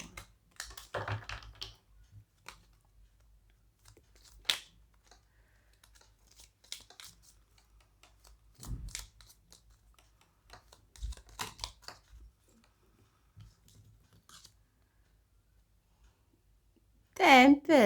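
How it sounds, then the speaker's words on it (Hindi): Tarot cards shuffled by hand on a table, giving soft, scattered papery riffles and taps in irregular bursts, with a louder, denser flurry of shuffling at the very end. "ये वाले कार्ड्स मैं यहाँ रख देती हूँ and let's start the shuffling"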